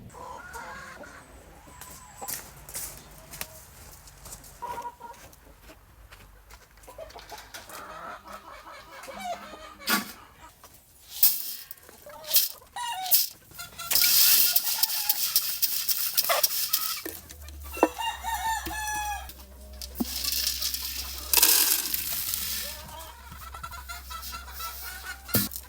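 Chickens cluck and a rooster crows in a backyard flock at feeding time, with scattered bursts of clucking and squawks that grow louder and busier toward the end over a low background rumble.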